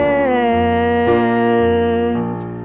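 A single piano plays a flowing arpeggio from a song, notes stepping up and back down in a steady rhythm, clear and fairly loud with no voices.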